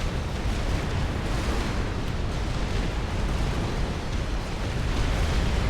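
Dense, continuous battlefield roar of gunfire and explosions in the strategy game Supreme Commander, a steady wall of rumbling bursts and booms with no clear gaps.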